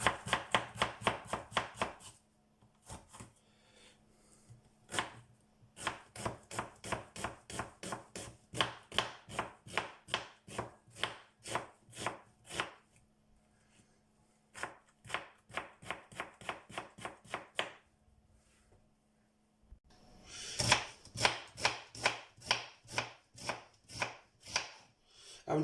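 A knife slices onions on a cutting board for biryani: close, crisp, evenly spaced chopping taps in long rhythmic runs, broken by short pauses, with no talking.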